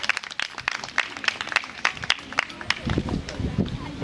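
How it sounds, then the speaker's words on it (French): Audience applause at a women's fitness event for International Women's Day, 8 March 2025, heard as a burst of sharp, fairly close claps that thins out as crowd noise and voices rise underneath. "Est-ce qu'on peut l'applaudir, s'il vous plaît?"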